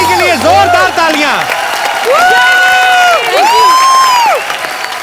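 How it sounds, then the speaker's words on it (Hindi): Applause and cheering from a studio audience on a Hindi comedy talk show, loud and sustained, mixed with a singing voice carrying long held notes. "जैमी के लिए जोरदार तालियां"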